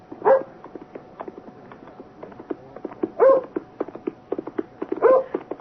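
A dog barks in a radio drama adaptation of Jane Eyre, three distinct barks spaced a few seconds apart over the rhythmic clip-clop of a galloping horse on a lonely road.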